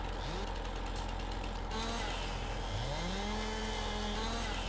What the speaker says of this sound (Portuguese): O motosserra não quer girar.